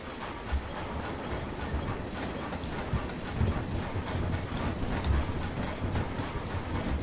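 A miniature 21-inch gauge railway locomotive runs along the track, a continuous rumbling rattle with rhythmic clicks and occasional low thumps from the wheels, fairly close and steady throughout.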